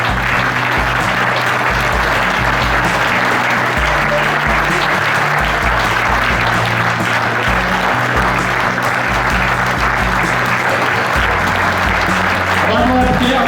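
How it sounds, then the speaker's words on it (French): An audience applauds at a Charolais cattle show in Saint-Gervais d'Auvergne, with steady, dense clapping that carries on without a break and a voice faintly audible underneath. "on peut l'applaudir"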